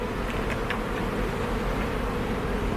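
Honey bees swarm around a full beehive in a steady, dense buzz that stays close and loud throughout, with no voices.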